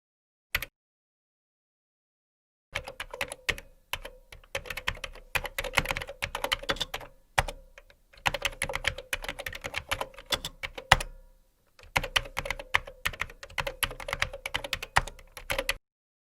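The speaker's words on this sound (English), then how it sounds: "While I am typing" Steady typing on a computer keyboard while entering text into a word processor, close-up clicks in long busy runs broken by brief gaps, one isolated keystroke at the very start, no voices.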